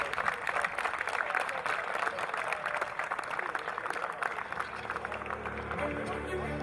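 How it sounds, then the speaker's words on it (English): Crowd applause for the teams at the EMF Eurocup Masters football tournament in Sofia, a dense steady patter of many hands heard from a distance and sustained for several seconds. "So a round of applause for all of our teams in this year's E.M.F Eurocup Masters,"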